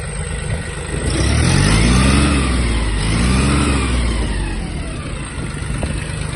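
A Mitsubishi GS-250 Japanese mini tractor engine runs nearby, revving up twice in smooth swells before settling back toward idle.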